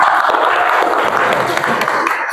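A university class at a Qur'an and Hadith lesson claps together on the teacher's cue, a brisk, close wash of many hands that runs steadily from start to end.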